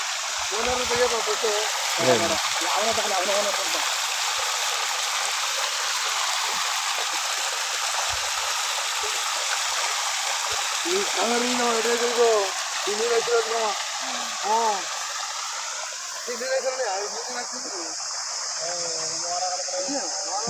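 Water gushes and rushes continuously at close range from a tanker into a rice paddy, a loud steady torrent, while people talk intermittently over it.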